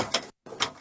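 A food and fruit drawer in a motorhome kitchen slides twice, with two short, faint rolling swishes split by a brief silence and no voices.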